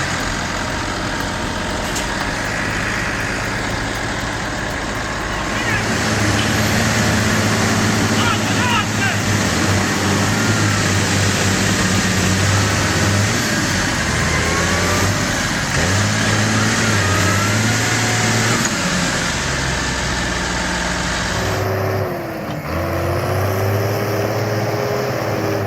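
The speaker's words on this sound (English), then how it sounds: "The Zetor 5245, with a net weight of about 3 tons and a 45 horsepower diesel engine, is hauling a log trailer" A Zetor 5245 tractor, a 3-ton machine with a 45 horsepower diesel engine, hauls a log trailer, its engine droning loudly and laboring with shifting revs for most of the stretch, then changing note near the end.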